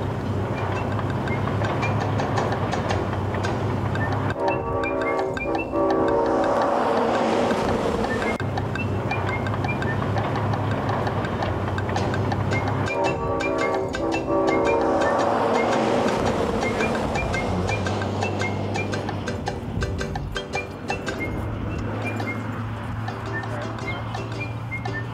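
A train rumbles steadily as it gets under way after the brake is released, with wind buffeting the microphone, a constant low drone and metallic rattling swelling at intervals.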